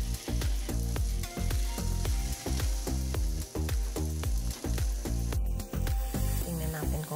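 Unmarinated chicken sizzling on a gas grill, a continuous frying hiss broken by regular rhythmic thumps and clatter, with a voice talking over it.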